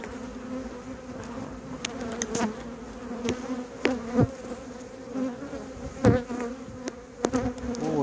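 At an open hive with brood frames being lifted and rearranged, a dense, continuous honeybee drone fills the air near the listener, broken by repeated wooden clicks and taps of frames being handled.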